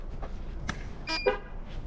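A car horn gives a couple of short toots as each tire pressure monitoring sensor is scanned, amid faint outdoor background noise, moderately loud and nearby.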